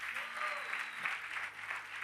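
A church congregation applauds, a steady wash of clapping from many hands heard from some distance, with a voice briefly audible over it.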